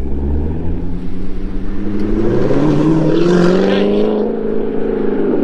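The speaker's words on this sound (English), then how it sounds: "Let's get another flyby for you." A C7 Corvette Grand Sport with an AWE exhaust sweeps past on a track, its engine note rising and falling in pitch as it approaches and recedes, loud and close, with one brief spoken word.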